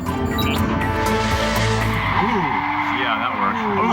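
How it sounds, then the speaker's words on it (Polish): A car brakes hard and skids on a test track as malware engages its brakes, loud engine and road noise giving way to sweeping tire squeals in the second half, with voices briefly audible. "Za chwilę włączymy hamulce."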